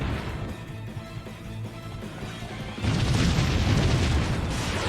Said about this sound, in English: it just ran through cannon fire